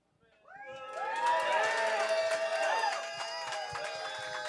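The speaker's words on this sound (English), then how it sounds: "It's a pretty loud cheer." Loud crowd cheering and whooping at a call-in radio show event rises quickly, holds as a dense roar of shouts and yells, then settles slightly lower while still going strong.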